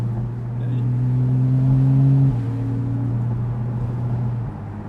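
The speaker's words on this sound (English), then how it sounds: "The sports exhaust, it's just the noise." Porsche 911 Carrera S of the 991.1 generation accelerating through held gears with its sports exhaust, a loud steady engine note climbing in pitch, then dropping at a gear change before pulling again, heard close from inside the car.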